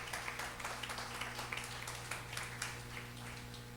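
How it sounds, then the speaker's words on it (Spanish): Church congregation applauding during a sermon, a faint, steady wash of many hands clapping with a low hum underneath and no talking. "Dáselo fuerte al Señor el aplauso"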